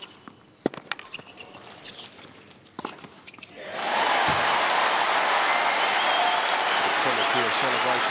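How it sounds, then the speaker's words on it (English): Tennis crowd at the Australian Open quarterfinal bursting into premature applause and cheering, a loud sustained roar that rises suddenly after a few scattered claps and court sounds, then holds steady to the end. "Premature celebration from the crowd."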